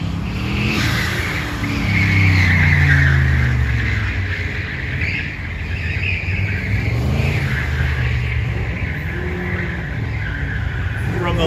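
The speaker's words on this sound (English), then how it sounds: "There he goes, David Carroll, the twin turbocharged little blazer" Twin-turbocharged Blazer running an autocross course at a Goodguys car show, engine roaring loudly with tires squealing and skidding through the turns, close and continuous.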